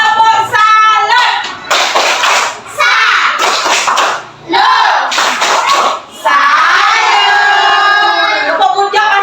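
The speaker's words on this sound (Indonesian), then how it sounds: "kalau sudah selesai kita tepuk dulu. Tepuk salut ya." A group of schoolchildren perform the tepuk salut clapping routine, chanting loudly in rhythmic bursts with bright clapping. The chant stops in short pauses and picks up again, ending in one long sustained shout.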